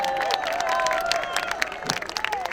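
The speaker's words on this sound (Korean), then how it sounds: "다시 한번 큰 박수 부탁드립니다" Crowd clapping and cheering at a Korean political rally in Jongno rises briefly over tonal sound from music or a loudspeaker, busy and moderately loud throughout.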